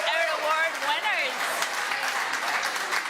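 Audience at the Chip Shop Awards 2022 ceremony cheering and applauding award winners and nominees, a dense sustained wash of clapping and whoops under a loud voice speaking over it.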